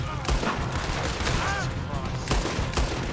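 Gunfire in the Western video game Red Dead Redemption 2 during a bank robbery, repeated sharp shots cracking over dense game ambience, with someone talking over it.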